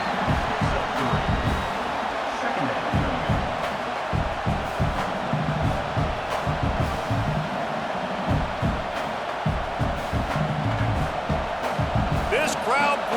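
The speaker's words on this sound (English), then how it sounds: "This crowd bringing the energy and noise early." A packed college football stadium roars continuously in EA College Football 26 during Akron at Nebraska, a loud rolling crowd din with thumps and swells, while commentators talk over it throughout.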